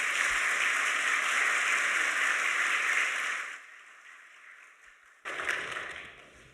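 Church congregation applause welcoming deacons at an ordination service, a steady wash of clapping that cuts off abruptly midway, leaving a faint hum before a brief loud return.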